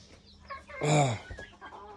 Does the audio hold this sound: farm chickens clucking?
yes